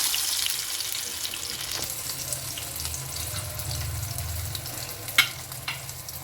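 Chicken mince chapli kabab with tomato pressed on top frying in a pan at home, a steady soft sizzle running throughout with a couple of sharp clinks near the end, no talking.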